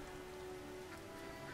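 Steady rain pours in The Witcher game world, a continuous soft hiss with scattered droplet patter, even and unbroken throughout with no voices.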